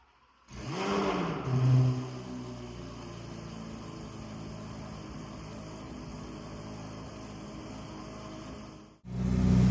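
A Corvette C8 Z06 fitted with Kooks headers and exhaust and an Eventuri intake barks to life on a cold start, flaring loudly before dropping into a steady, droning high idle that cuts off abruptly.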